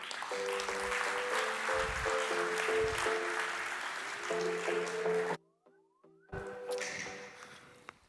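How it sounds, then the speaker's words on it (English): Conference audience applauding at a Baltic capital markets event, a dense steady wash of clapping over music tones that cuts off abruptly near the end before resuming briefly. "please welcome with applause Veiko Raim, CFO of Enefit Green"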